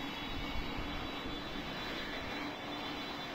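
Concorde jet engines spin up and hold a steady, broadband roar inside a Roblox game, a continuous airy rumble with a high whine on top, heard from within the cabin at low level with no talking.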